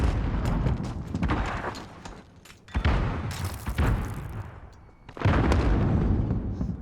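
Game explosions from a grenade going off during an XP League esports match, heavy booming blasts with dense broadband bursts recurring across the clip, loud and close with busy game noise between them.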